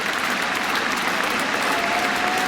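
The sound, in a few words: cricket crowd applauding Alastair Cook's final test century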